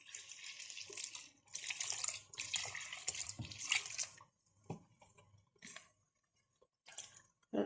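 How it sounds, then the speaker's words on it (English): Water is poured into a puff puff dough mixture of flour, sugar and salt, making a soft splashing stream for several seconds, followed by faint intermittent trickles and squishes. "Okay, put a little water."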